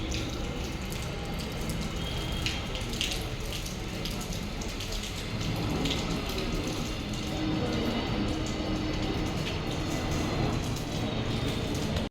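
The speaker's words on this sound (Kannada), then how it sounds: "ಮಳೆ ಮಳೆ ಮಳೆ ಮಳೆ ಮಳೆ" Steady rain falling on surfaces outdoors at a rural village home, a dense unbroken patter and wash that stays loud and even throughout, with no clear voices over it.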